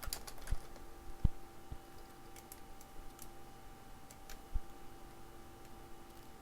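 Light, scattered clicks from a computer keyboard being typed on, faint and irregular against a quiet room hum, with no talking.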